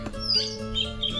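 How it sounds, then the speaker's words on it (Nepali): Wild birds call at a fishery area near Hetauda, Nepal, giving a few short, high chirps and thin whistled notes over a low background hum, fairly close and clear. "चराहरू त कराइरहेको छ।"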